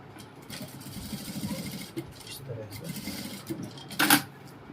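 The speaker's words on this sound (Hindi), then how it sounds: "अब हम इसको पलट के अब जो हमने निशान लगाया था उस निशान के ऊपर सिलाई चलाएंगे" A sewing machine runs stitches along a marked line on a princess-cut blouse lining, a soft continuous whir under a voice, with a brief sharp click near the end.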